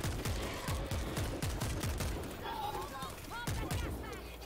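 An assault shotgun fires in World War Z, several punchy blasts in quick succession that turn into scattered shots, loud and close, with a voice talking over the gameplay noise.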